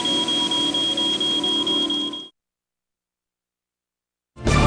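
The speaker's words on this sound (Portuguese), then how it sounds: "Quando as partículas de fumaça rompem essa corrente, o alarme dispara." A smoke detector alarm blares a loud, steady high-pitched electronic tone for about two seconds, falls silent briefly, then starts sounding again.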